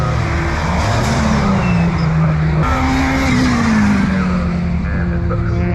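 A race car in Anglesey time attack qualifying, its engine a loud continuous roar whose pitch rises and falls through the gears, with tyre squeal layered over the engine. A commentator's voice is faintly mixed in.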